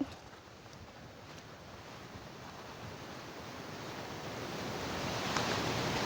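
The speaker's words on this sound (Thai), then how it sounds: "ลมเย็นสบายมากๆเลยค่ะ" Wind blowing across open farmland in Korat, Thailand, a steady broadband rush that buffets the microphone and swells gradually louder, with no voices.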